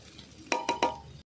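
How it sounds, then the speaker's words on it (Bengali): Onion scapes frying in a pan with moringa flowers: three quick, close metallic clinks of a spatula against the pan over a faint sizzle, all within about a second. "এই যে পেঁয়াজ কালি দেখো, আর ভালো করে আমি এইভাবে ভেজে নিচ্ছি।"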